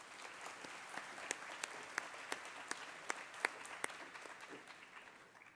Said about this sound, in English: Let's have one final round of applause for our county award winners